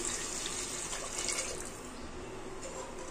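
Tap water pours steadily into a cooking pot for a raw mango bisibelebath, a continuous splashing rush at close range with no talking over it.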